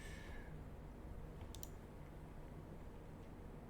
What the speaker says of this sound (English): I have a really clicky-clacky keyboard that I just bought that I don't like.